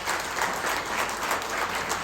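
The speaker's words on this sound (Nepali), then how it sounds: "हामी सबै मिलेर उहाँलाई ताली बजाउनु" Audience at a formal gathering applauds steadily, a dense continuous wash of clapping from many hands for about two seconds with no voices over it.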